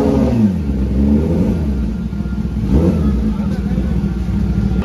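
Kawasaki ZX10R superbike engine revving hard and continuously, a loud, steady mechanical roar with slight swells in pitch, close to the listener.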